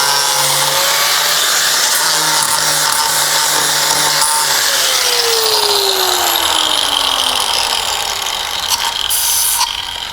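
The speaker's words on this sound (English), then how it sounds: "So get yourself a grinder and" Angle grinder working on the sheet metal of a 1960-66 Chevy or GMC truck cab to bring out spot welds, a loud continuous whine with shifting pitch that runs steadily without pause.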